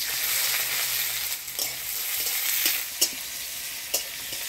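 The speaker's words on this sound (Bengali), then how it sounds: "এবারে দিয়ে দিব পেঁয়াজ কুচি," Chopped onions sizzle in hot oil in a wok with dried red chillies and radhuni seeds, a steady close hiss broken by a few sharp clicks and scrapes of a stirring spatula.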